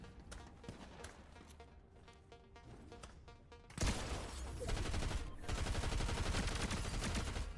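Video game gunfire in a firefight, scattered distant shots at first, then loud sustained bursts of rapid automatic fire that fill the rest of the scene.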